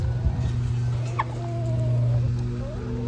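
Poultry on a farm calling close by, chickens let out onto the grass gobbling and clucking over a steady low hum, with a few sharper calls rising through the middle.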